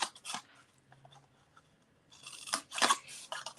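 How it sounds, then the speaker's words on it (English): Scissors snip through paper to cut tabs on a box template, a few quick close cuts at the start and a cluster of crisp snips near the end, with quiet pauses between. "So go ahead and cut our tabs."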